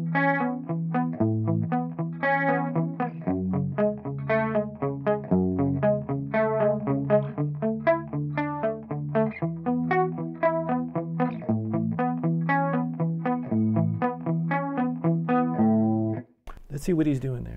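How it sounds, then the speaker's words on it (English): Electric guitar through a Marshall Origin 20 amp and EVH chorus pedal, a steady picked arpeggio pattern repeating evenly at moderate volume, clean with a shimmering chorus, ending in a brief noisy burst. "today I'm using the Marshall Origin 20 along with the EVH chorus pedal"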